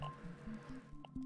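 A water bottle is filled in the game Grounded, producing a brief, quiet series of wet squishing and dripping blips in quick succession.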